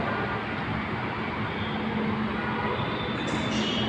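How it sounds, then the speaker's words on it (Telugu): A Hyderabad metro train at Peddamma Gudi station gives a loud, steady rumble of wheels on rails with a low droning hum, close and continuous, briefly joined near the end by a higher whine. "పెద్దమ్మగుడి మెట్రో ట్రైన్ స్టేషన్."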